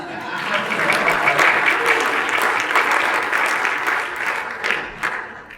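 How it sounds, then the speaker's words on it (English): A conference audience applauds a speaker steadily, dense clapping filling the room at a strong level for several seconds before tapering slightly. "You have to applaud speakers when they come to the microphone."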